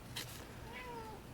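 A pet cat named Luna gives a single drawn-out meow, clear and fairly close in a quiet room, after a brief rustle.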